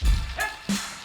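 Small puppy yips and barks in a few quick, high bursts close by, with short gaps between them.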